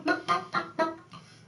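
A person imitates a turkey call for hunting: four loud, evenly spaced clucking yelps followed by a softer fifth, close and alone with no talk.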